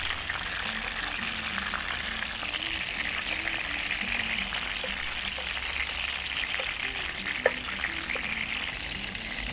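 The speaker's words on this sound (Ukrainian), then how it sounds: "Все, обсмажуємо останню партію і будемо куштувати." Chicken skins fry in a pan with a steady, moderate crackling sizzle and fine popping, a continuous bed of spatter with one brief sharper pop near the end; no talk.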